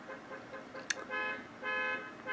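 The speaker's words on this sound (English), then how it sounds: "Someone doesn't know how to turn off their own alarm." A car alarm sounds in repeating bursts of steady tonal beeps, separated by short gaps, with a sharp click partway through.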